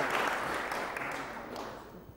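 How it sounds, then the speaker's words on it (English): Audience applause for visiting Brazilian guests at an awards ceremony, a steady dense wash of many hands clapping that slowly fades over a couple of seconds, with no talk. "A big applause for our Brazilian friends"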